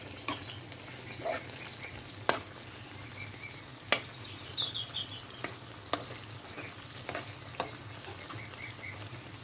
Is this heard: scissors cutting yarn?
no